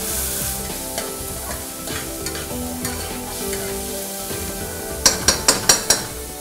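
Vegetables and bay leaves browning in a pan, a soft steady sizzle under stirring scrapes, then a quick run of five sharp clinks of a utensil against the pan near the end, no talk.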